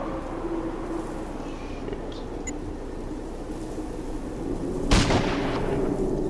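Gunfire in Fallout Tactics: Brotherhood of Steel (2001), a single sharp, loud shot cracking out near the end over a steady low game ambience.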